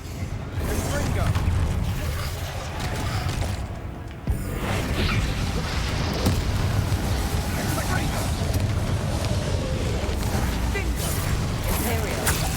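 Confringo fire-blast spell cast in the Hogwarts Legacy video game, heard as dense whooshing, crackling bursts and mechanical clatter running continuously under overlapping talk, with a brief dip before a sharp renewed blast.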